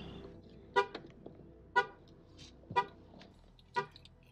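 A 2013 Chevy Volt's alarm sounds its horn after the door is opened, four short, sharp honks spaced about a second apart, loud and close over a quiet background.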